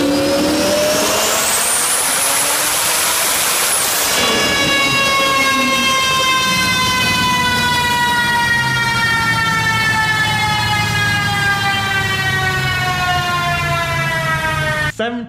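An upgraded street-race car making 1,775 wheel horsepower roars loudly as its engine revs climb sharply, then holds a high, steady, whining pitch at full throttle for several seconds before cutting off abruptly at the end.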